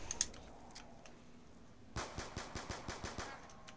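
Rapid automatic gunfire from weapons in a zombies-style shooter video game, about ten sharp shots in a steady burst after quieter game ambience with faint clicks.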